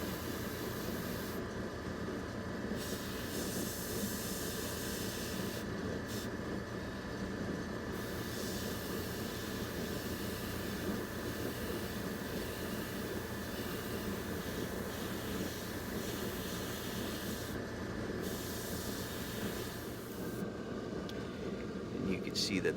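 An airbrush sprays ink onto a painted bird with a steady, continuous hiss, while a person talks over it throughout.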